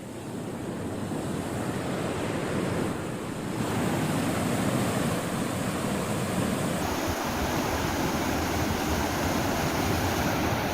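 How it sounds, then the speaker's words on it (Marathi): Floodwater rushes over a bridge after heavy rain in Sangli, a loud continuous roar of churning water mixed with wind, with no speech. "अनेक नाले, ओढे तुडुंब भरून वाहू लागलेत"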